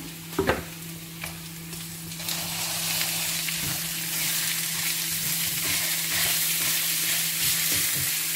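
Ground beef frying in a pan for a microwave meat pie, a steady close sizzle with a few sharp scrapes and clacks of stirring near the start, growing louder and denser toward the end.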